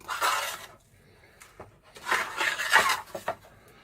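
A spoon scraping breadcrumbs made from two bread crusts around a dish while coating a Scotch egg, heard as close, gritty scrapes and clinks in two bursts separated by a short pause.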